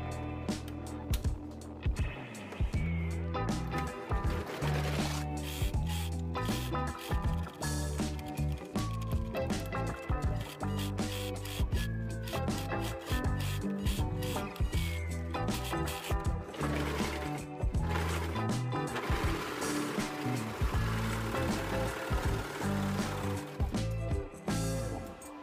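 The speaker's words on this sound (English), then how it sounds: "I like to go over that seam again with a slightly wider seam." Sewing machine stitching a second, slightly wider seam over a fabric bucket hat, in close bursts of rapid mechanical chatter with brief pauses between runs.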